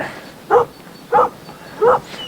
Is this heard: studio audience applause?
no